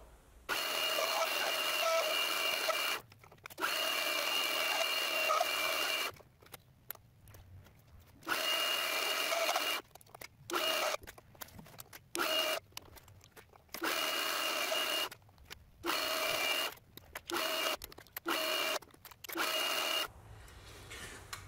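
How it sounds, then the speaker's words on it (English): A metal lathe cutting a folding knife pivot, a steady bright whine in repeated bursts broken by short pauses, close and fairly quiet with no talking. "it's a lathe, so time to make some chips as well"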